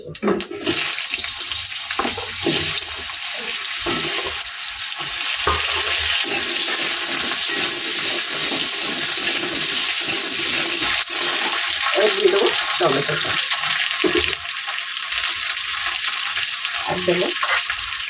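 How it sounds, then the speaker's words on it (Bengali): Potatoes fry in oil with panch phoron, a steady, loud broadband sizzle that hisses continuously, broken now and then by soft knocks and scrapes of stirring. "ওই তেলে পাঁচ ফোড়ন দিয়ে আলুটা দিয়ে ভেজে নেবো"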